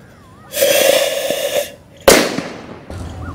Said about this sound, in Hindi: तो पहले कलर वाले रॉकेट को चलाते हैं